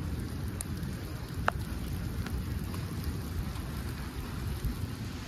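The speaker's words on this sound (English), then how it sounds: "As you can hear, it's pouring down outside." Steady, dense heavy rain pours down outside at a lake, a continuous broadband wash with a few brief drips and taps standing out; no voices.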